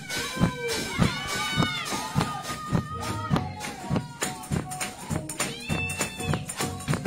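A church congregation claps in a steady, rhythmic beat during a lively gospel service, with shouting voices and music over the repeated sharp claps.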